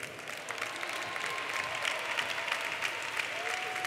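An audience applauding at a university graduation ceremony after graduates' names are read, dense continuous clapping at moderate volume, steady throughout with a few louder claps.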